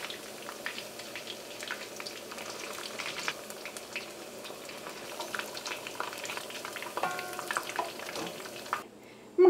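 Chicken pieces for a pepper chicken fry crackle in hot oil, a steady close sizzle with bubbling and occasional stirring scrapes, and no voices.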